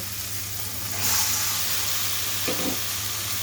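Meat drops into a pan of oil-fried spices and onions for a home-cooked dish, sparking a sudden loud sizzle that settles into a steady frying hiss over a low background hum.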